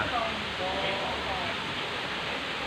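A waterfall rushes at a forest-style cafe as a steady, dense roar of falling water that stays loud and even throughout, with a voice faintly audible beneath it.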